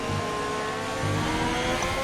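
Formula race car engine in the sim racing game RSF1, a steady high whine droning continuously at full throttle down a straight, loud and alone.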